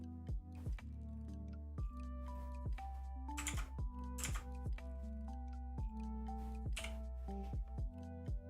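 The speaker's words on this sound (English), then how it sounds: "My keyboard sounds good." Typing on a computer keyboard, a fast irregular run of soft clicky keystrokes, close and steady, with a constant low hum underneath.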